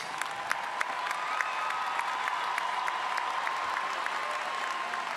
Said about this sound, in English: Let's give another round of applause for College of Arts and Sciences.